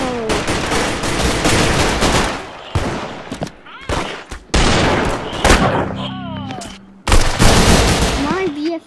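Rapid gunfire from the video game Arsenal: loud, dense bursts of shots and sharp single cracks, with short pauses between volleys and excited voices talking over the shooting.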